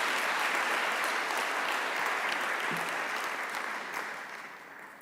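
Another burst of conference audience applause, broad and steady from a large crowd, easing off slightly toward the end, with no voices on top.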